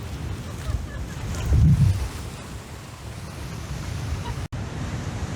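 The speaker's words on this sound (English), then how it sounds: "This is some angry ocean right here." Angry ocean waves crash against the Terceira coast in the Azores, a steady roar of surf and wind buffeting the microphone, with one heavier wave surging up loudly near the start before the wash settles back into a constant rumble.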